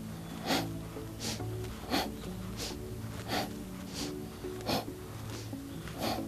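Quick forceful exhales in a yoga breathing exercise at home, sharp puffs of air repeating about every 0.7 seconds in a steady rhythm, close and fairly soft over a faint background.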